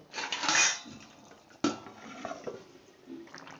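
A lid knocks down onto a pan of katla fish curry with cauliflower and potato: a single sharp, close clink amid soft kitchen clatter and faint bubbling, with another brief utensil clatter earlier.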